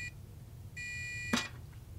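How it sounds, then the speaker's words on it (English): A steady electronic beep from a multimeter's continuity tester sounds twice, a short tone then a longer one, followed by a brief click. "it beeps, makes quite an annoying beep"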